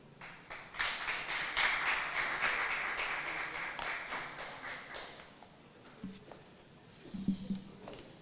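An audience at an International Day for People of African Descent event claps in a burst of applause that swells quickly, holds steady for several seconds, then thins out into a few scattered claps and thumps.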